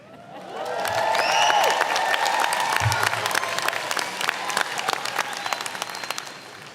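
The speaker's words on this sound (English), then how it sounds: "So I want you to cheer and clap as loud as you can whenever you want." A convocation audience at OU-Tulsa bursts into sustained applause with cheers and whoops, swelling quickly and holding loud and dense before gradually thinning into scattered claps.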